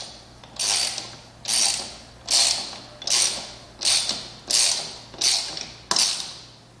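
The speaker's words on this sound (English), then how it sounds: "You can tighten the bolt with a 17mm socket. Using an extension will make the installation easier." A socket wrench with a 17mm socket and extension ratchets a bolt tight during an assembly, about seven evenly spaced clicking pulls, close and clear with no talk.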